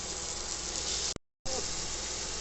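Potatoes frying in hot oil in a home kitchen pan, a steady close hiss of bubbling oil that breaks off briefly into silence before the sizzle resumes.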